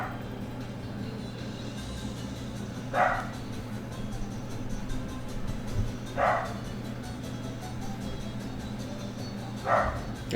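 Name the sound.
dog barking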